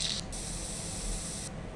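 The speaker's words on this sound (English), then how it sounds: "using the spray paint" A spray paint can hisses in The Last Monday, a steady airy spray that starts after a brief pause and runs for over a second before cutting off, fairly close, with no talk.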